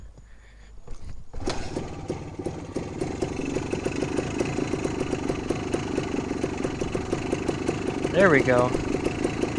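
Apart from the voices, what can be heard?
1974 Honda MT250 motorcycle engine idling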